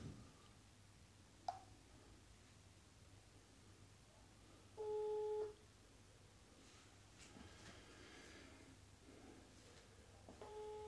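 A faint speakerphone call in a quiet room: one short electronic tone burst rings out midway, a second begins near the end, and low hum and small clicks fill the gaps.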